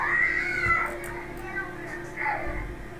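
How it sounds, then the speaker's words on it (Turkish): A cat meows twice, clear and fairly close, with a drawn-out cry at the start and a shorter one near the end, over a steady background hum from a video game session. "Şu kediye bakın çok tatlı."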